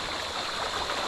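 Floodwater flows steadily in a short burst, a continuous broad rushing wash like a stream, close and fairly quiet with no voices.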